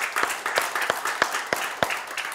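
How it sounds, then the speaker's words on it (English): A church congregation claps hands during a Sunday service. The claps are sharp and fairly regular, close by, with a few quieter ones mixed in and scattered voices in the background. "Give him a hand clap."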